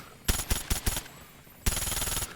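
MAC-10 submachine gun fire in COD Mobile: four quick separate shots, then a sustained rapid-fire burst of about half a second, loud and close, with no talking over it.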